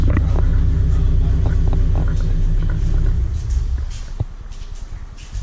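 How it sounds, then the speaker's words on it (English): A loud car idling nearby with a deep, steady engine rumble and harmonic drone that eases slightly toward the end, at an informal car meet where a Subaru BRZ gets LED underglow. "loud ass car"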